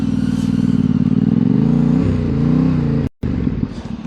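Motorcycle riding, a steady close engine drone with rising and falling pitch as the bike rides along, a brief dropout near the end, and no talking.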